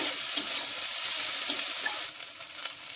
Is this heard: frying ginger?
yes